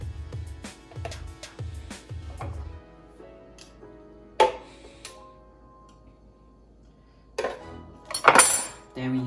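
A metal knife and spoons clatter against dishes in a home kitchen while sandwiches and a smoothie are prepared, with a run of rhythmic close taps, then sharp scattered clinks and a louder rattle near the end.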